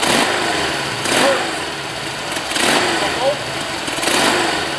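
Honda CA77 motorcycle engine running after an electric start, a steady low idle with a few swelling revs, close by and fairly loud.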